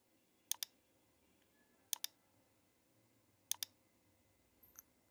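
A computer mouse clicks while picking points in ANSYS beam modeling software, heard as three crisp double-clicks spaced over a few seconds and a fainter click near the end, close and isolated in a quiet room.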